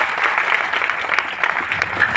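Sustained applause from an audience, a dense wash of clapping that carries evenly from start to finish.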